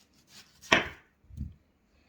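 Fruit being cut with a knife on a wooden board for a fruit ratatouille: a few soft, close knocks and slices with quiet pauses between them, and no talking.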